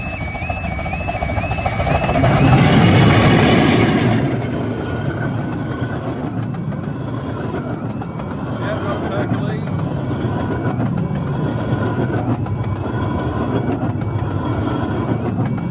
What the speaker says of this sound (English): this is the train heading to Hythe